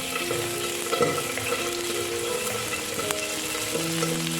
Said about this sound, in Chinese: 然后加入蒜末与葱白炒香，